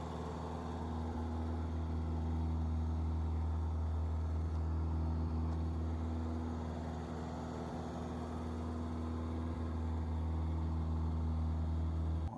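A Porsche 924 engine idles steadily while the car sits jacked up, a constant low hum with a deep drone running unbroken and fairly loud throughout.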